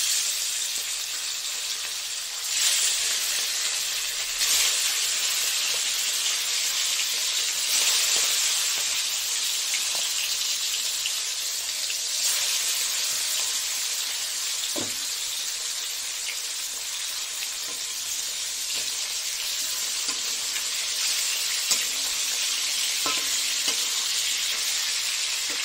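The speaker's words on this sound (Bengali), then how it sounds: "এই কাতলা মাছগুলি ভেজে নিই।" Catla fish pieces fry steadily in hot oil, a dense, continuous sizzle and crackle that stays close and loud throughout, with occasional faint knocks and clinks.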